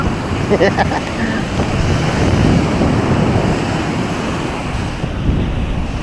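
Rough sea surf and gusting wind on a beach, a loud continuous roar of breaking waves with heavy wind buffeting close to the microphone.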